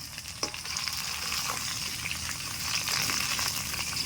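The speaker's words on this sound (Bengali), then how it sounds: "আলু তো ভাজা হয়ে গেল মনে হয়" Potatoes frying in a pan during outdoor cooking in a garden, a continuous close sizzle of hot oil with a few sharp pops and stirring sounds, no talking.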